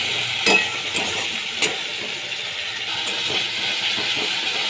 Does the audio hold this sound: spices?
yes